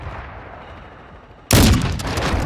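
Loud burst of gunfire in the video game Call of Duty: Modern Warfare II, with a sharp onset of dense, rattling shots after a quieter stretch of low in-game ambience.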